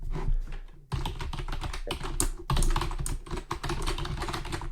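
Rapid, steady keystrokes on a computer keyboard, close and crisp, with brief pauses between bursts of clattering taps and no voices.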